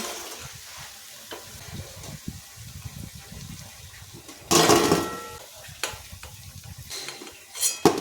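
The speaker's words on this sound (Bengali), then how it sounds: "এই তেলেই আবার বাকি পকোড়াগুলো ছেড়ে দিচ্ছি" Cauliflower pakoras sizzle and bubble in hot oil, a steady frying crackle with bursts of louder spattering as more pieces go in, plus occasional utensil clinks.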